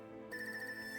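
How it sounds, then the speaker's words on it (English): A mobile phone ringtone plays a steady electronic tone pattern, moderately loud and alone, with no voices. "Sorry, that's my phone."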